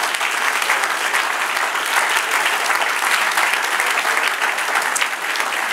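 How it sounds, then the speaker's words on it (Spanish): A church congregation claps together in steady, full applause, a bright, even wash of many hands lasting several seconds, close and loud with no voices over it. "Démosle un aplauso al Señor."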